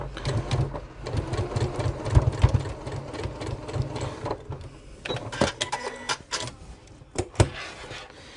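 A sewing machine runs in bursts, its rapid mechanical needle clatter stitching a tool wallet, with brief pauses between runs and no talking.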